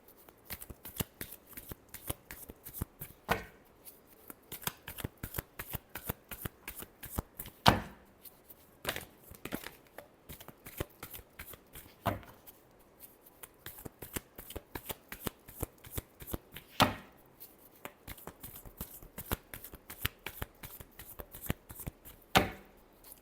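A deck of tarot cards is shuffled close up, producing a steady stream of soft riffling snaps and taps with occasional sharper clacks, continuing without pause and no talking.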